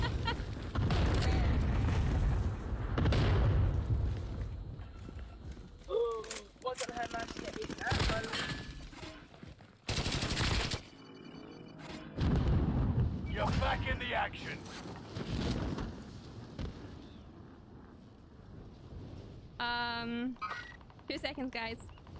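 Bursts of rapid gunfire and heavy explosions during a Warzone match, loud and repeated across the stretch, with players talking excitedly over the action.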